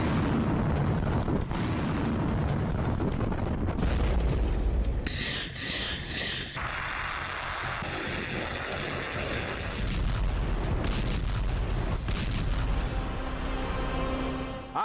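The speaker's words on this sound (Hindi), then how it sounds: "ये डरावना वीडियो रूस के परमाणु परीक्षण का है।" Russian nuclear test explosion rendered as a loud, sustained roar and rumble with deep booming low end and crackling, shifting mid tones, continuous for about fifteen seconds with no speech.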